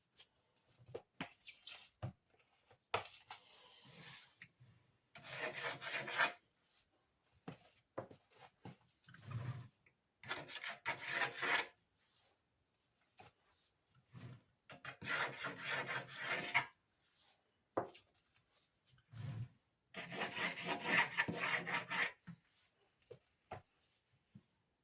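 A spatula spreads cream cheese icing around the bottom of a chocolate cherry cake in soft, repeated scraping and rubbing strokes that come in bursts with short pauses, close and fairly quiet, with no talking.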